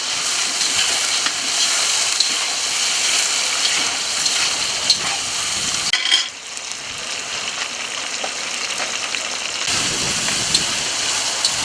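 Chopped onions sizzling in hot oil in a pot for Tajik plov, a steady bright crackling hiss that runs throughout, dipping briefly midway before resuming at full strength.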